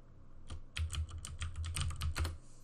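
Quick bursts of computer keyboard typing as a username and password are entered, crisp keystrokes in irregular clusters close up, with no talking.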